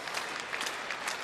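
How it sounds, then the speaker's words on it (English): A crowd at a world championship table tennis semifinal applauds, producing dense, sustained clapping from a large audience at even loudness throughout. "just listen to the crowd"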